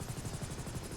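A Buzzard helicopter in GTA V gives a steady, fast, rhythmic rotor chop at moderate loudness throughout.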